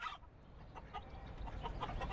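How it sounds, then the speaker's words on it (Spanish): Chicken clucking sound effect in a children's story, a quick run of several short clucks heard close and alone after a brief burst at the start. "¡Tenemos picos! Cacareó Nancy."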